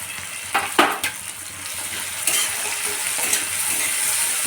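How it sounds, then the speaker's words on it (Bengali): Chopped tomato, green chilli and grated ginger fry in hot oil with a loud, close, continuous hiss, broken early by a few sharp stirring scrapes before settling into an even sizzle. "এরপরে তো আমি টমেটো কুচিটা আর কাঁচা লঙ্কাটা দিয়ে দিলাম। এবার এটা একটু ভাজা হবে।"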